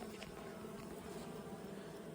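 Honey bees swarm and buzz at a beehive colony, a dense steady hum close by and continuous, with no voices.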